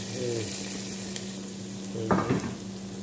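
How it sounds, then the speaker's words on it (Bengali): Red amaranth greens stirred as they fry in a pan, a soft continuous sizzle with a steady low hum behind it and a couple of short scraping stirs near the end. "একটু নাড়াচাড়া করে দিলাম।"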